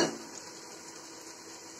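Spice paste sizzles in a pan as a little coconut milk goes in, a brief splash and crackle at first, then a steady soft bubbling hiss, faint and close.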